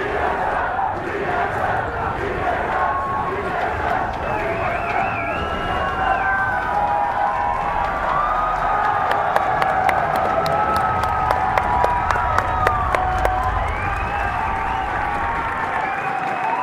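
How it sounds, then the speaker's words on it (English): A large arena crowd at an esports grand final roars and cheers steadily, with a dense wash of voices and scattered claps. Sharp clapping grows more distinct toward the end. "The crowd is going insane."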